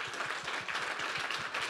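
An audience applauds a panel at the close of a data-security discussion, producing a quick, even run of close handclaps that continues without a pause.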